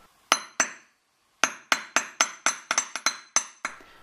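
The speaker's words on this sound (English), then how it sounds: "Once I've finished with my raising hammer and made the basic shapes" Raising hammer repeatedly striking metal chain links for jewellery, a dozen sharp ringing clinks in an uneven rhythm with a brief pause early on, close and clear with no talk.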